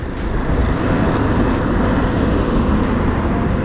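A noisy scooter passes on a public road, a loud, steady broadband engine roar filling the whole stretch with no break and no talk over it.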